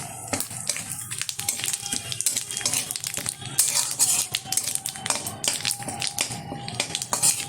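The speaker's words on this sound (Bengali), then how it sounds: "ভালোভাবে ভেজে নেব।" Bay leaves and whole cumin seeds fry in oil left in the pan after frying crabs for a spicy crab curry, giving a steady crackle broken by frequent clinks and scrapes of a spoon against the pan, with no talking.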